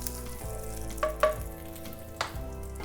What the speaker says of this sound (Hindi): क्रश किया हुआ साबुत धनिया, थोड़ी देर सौटे कर लेंगे, थोड़ा सा जीरा।